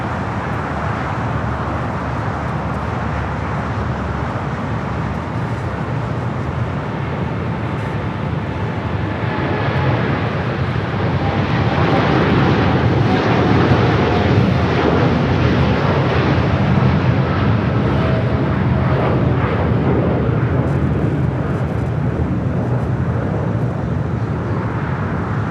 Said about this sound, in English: the Dreamliner now rolling down at 25 right.